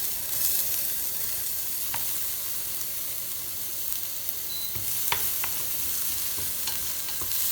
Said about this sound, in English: adding a little pork fat to the pot and frying some shallots